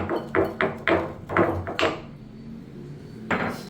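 Black peppercorns for pongal being coarsely crushed, heard as a series of sharp knocking pounds in a quick rhythm, then a pause and one more strike, close by with no talking.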